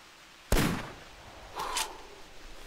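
A single sharp rifle shot cracks loudly in the hunting video game theHunter, followed a moment later by a second softer shot with a metallic ring.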